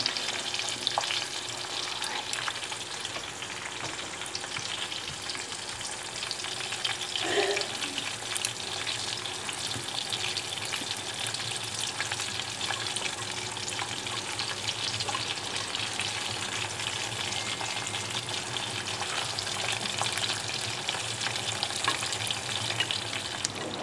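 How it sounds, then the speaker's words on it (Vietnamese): Food sizzles and fries steadily in a pan while being stirred, a continuous hissing crackle throughout with occasional scraping and clinking, close and fairly loud, with no talking. "Chiên lên thấy thơm dễ sợ thì."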